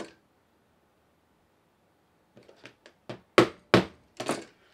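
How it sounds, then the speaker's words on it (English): A TBS Triumph drone antenna part is banged against a hard surface, a quiet pause followed by a run of about nine sharp knocks growing louder. "So you can usually bang this on a hard surface like that."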